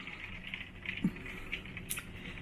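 Rain falls in Florida outside a 16th-floor room of the Aventura Hotel at Universal, making a soft, steady patter with faint scattered ticks and no talking.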